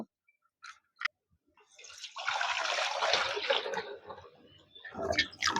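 Water poured into a container to make salt water for soaking raw green mangoes, a couple of brief clinks first, then a steady splashing pour that eases and returns near the end.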